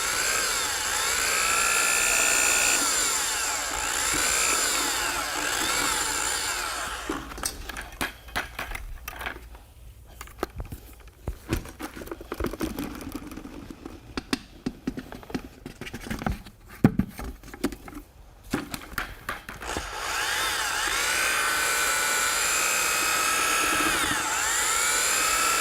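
A power drill with a mixing paddle spins sprayable microcement at low speed, giving a steady whirring drone that stops for about thirteen seconds in the middle and then starts again to the end.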